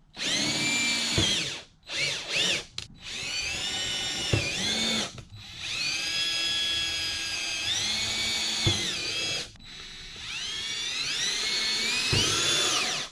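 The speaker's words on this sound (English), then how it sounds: "I'm going to go ahead and start to drill my holes" A power drill whines at high pitch through several long bursts, stopping and restarting with brief pauses, close and loud as it bores holes for a Harley tour pack rack.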